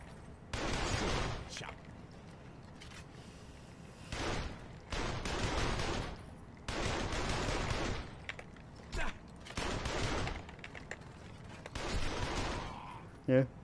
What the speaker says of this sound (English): Now I best get out and start shooting.